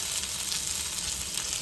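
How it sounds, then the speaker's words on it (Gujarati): Stuffed okra sizzles and fries steadily in a pan on a home stove, a constant close crackle with no talking. "અહીંયા ખીચડી મૂકી છે ને અહીંયા મારો ભીંડો બને છે"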